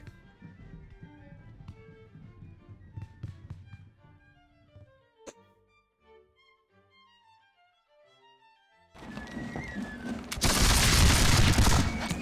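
In the War of the Austrian Succession strategy game, scattered distant gunfire pops and a sharp crack give way after a quiet spell to a loud, dense volley of massed musket fire.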